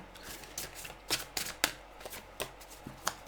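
Tarot cards shuffled by hand in a quiet room, a series of quick riffling and slapping bursts in an uneven rhythm, close and fairly soft.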